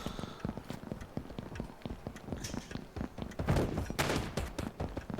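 In the video game Mini Royale, rapid gunfire crackles in dense, repeated bursts, close and moderately loud.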